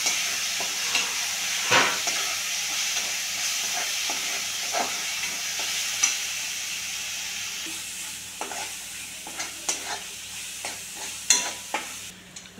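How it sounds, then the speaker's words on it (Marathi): Ground masala paste for a Satara-style urad dal dish sautéing in a pan on low flame, a soft continuous sizzle and hiss with occasional scraping stirs and spatula knocks. "वाटण चांगलं परतून घ्यायचं."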